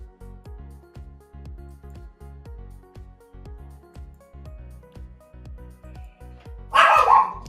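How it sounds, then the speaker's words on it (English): A house dog barks in a rapid, steady run of short, sharp barks from a distance indoors, ending with a louder noisy burst close by. "my dog's barking at something"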